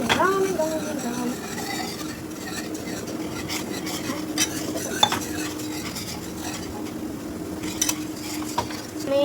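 Pasta sauce being stirred round and round in a pan, a continuous scraping swirl with occasional utensil clicks and a light sizzle underneath, a faint voice and background hum throughout.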